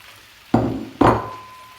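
Boiled, peeled potatoes dropped into a frying pan of caramel: two sharp close impacts about half a second apart, each followed by a bright sizzle that fades slowly.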